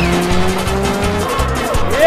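Rally car at a Córdoba rally accelerating hard nearby, loud revving engine with rapid gear-change dips and tire noise over a brief burst.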